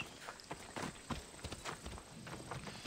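A horse in the video game Assassin's Creed Odyssey clip-clops along at a walk, with a steady run of hoof falls that sounds moderately close, and a little voice underneath.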